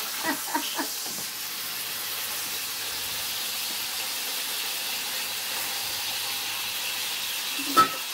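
Beef browning in butter in a pan gives off a steady, close sizzle and hiss throughout, with a few brief clinks at the start and near the end.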